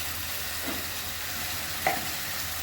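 Ground spices such as chilli, cumin, turmeric and coriander fry in a pan, giving a steady, close sizzle with a couple of light stirring scrapes and no talking.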